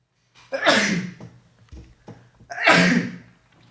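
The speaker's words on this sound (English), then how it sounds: "give me a second, I'm about to sneeze." Two loud sneezes burst out close by, each with a sharp intake before it, separated by a short pause in an otherwise quiet room.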